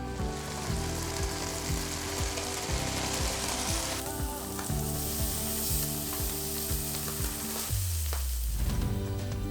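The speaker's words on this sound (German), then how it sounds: "Den Pfannenboden so schön mit Olivenöl bedecken und dann die Halloumi von beiden Seiten schön golden anbraten." Halloumi slices fry in olive oil in a pan with a loud, close, continuous sizzle, while a repeating mechanical clicking runs underneath and briefly pauses and shifts pitch.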